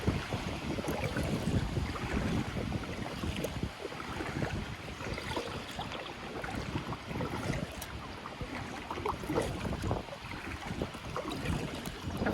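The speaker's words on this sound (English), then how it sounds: "Can't believe how windy it is." Steady wind blusters across the open water during a kayak fishing trip, a dense continuous rushing roar buffeting the microphone with no speech.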